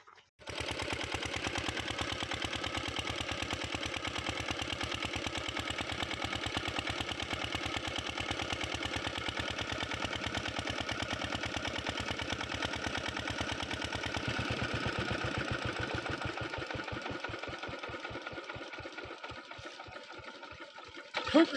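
A water pump engine on a farm runs steadily, a continuous rattling mechanical drone that holds for around twenty seconds before slowing into separate thumps near the end, fairly close with no talk.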